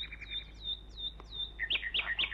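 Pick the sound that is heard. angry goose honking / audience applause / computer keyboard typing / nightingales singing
nightingales singing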